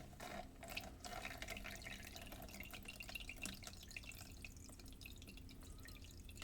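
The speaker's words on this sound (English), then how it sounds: "So I'm going to be adding my water to this." Water is poured into a salt solution in a lab container, giving a faint, continuous trickling and dripping close by, with no talking.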